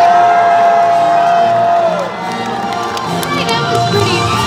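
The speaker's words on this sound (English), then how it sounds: "I need you to scream and cheer her on as loud as you can" A large arena audience at Universal Studios California screams and cheers loudly and continuously, a dense roar of shouting voices with a sustained high tone fading out midway.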